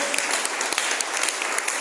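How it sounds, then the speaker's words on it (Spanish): Church congregation applauding during a Spanish-language sermon, a short burst of loud, dense clapping from many hands close by. "¿Cuántos pueden darle un fuerte aplauso al Señor?"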